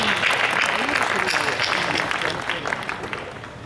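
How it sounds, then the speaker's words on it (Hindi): Audience clapping at a women's community poetry gathering, a dense, steady wash of applause that slowly thins toward the end. "एक बार तालियां बजा दें आप"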